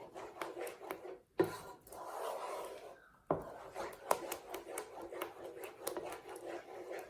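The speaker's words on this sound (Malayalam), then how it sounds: "നന്നായിട്ട് ഇളക്കി കൊടുക്കണം" Wheat halwa batter thickening in a pan, stirred with a spoon: a steady scraping, rubbing rasp close by, continuous with two brief pauses and a few sharper knocks against the pan.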